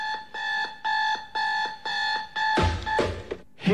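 An alarm clock rings in a steady pulsing pattern of repeated beeping bursts, loud and close, before a burst of noisy rustling takes over near the end.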